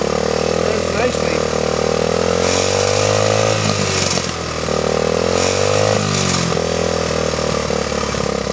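A long-stored Honda CT70 motorcycle, freshly fueled, runs its small single-cylinder engine close by, idling steadily with a couple of brief revs that rise and settle back.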